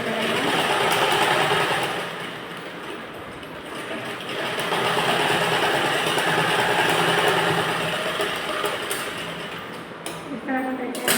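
A sewing machine stitches a line on a blouse, its rattling mechanical run continuing for the whole stretch with slight swells in level. Someone talks over the motor noise.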